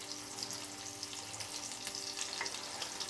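Mustard seeds and curry leaves frying in hot oil for ghee pongal make a steady, soft sizzle with faint crackles throughout, with no voices.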